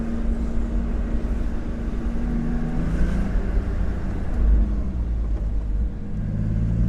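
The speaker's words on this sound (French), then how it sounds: "le moteur il est juste derrière nous, là c'est vraiment une petite symphonie" Porsche Boxster 986 roadster with its engine right behind the seats, a steady low rumble of the running motor while driving and braking, continuous and close throughout.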